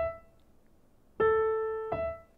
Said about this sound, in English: Without the pedal, it would sound like this.